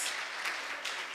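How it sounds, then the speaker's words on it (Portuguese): A church congregation claps during a service, a brief wash of soft, steady applause heard from the room without any voices. "Então, aplauda o Senhor pela vida deles."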